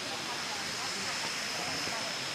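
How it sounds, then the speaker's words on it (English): A small waterfall at Erawan Falls in Kanchanaburi, Thailand, gives a steady, broad rushing roar that holds constant throughout, close and dense with no breaks. "I'll just show you this little bit of a waterfall behind me."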